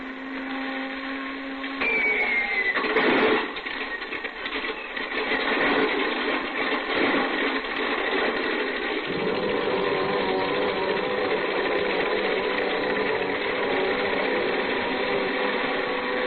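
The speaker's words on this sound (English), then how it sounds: "I didn't waste much time warming up the engine." A light airplane engine warms up at a small airport at night as a radio drama sound effect, a steady buzzing drone that holds loud and unbroken throughout.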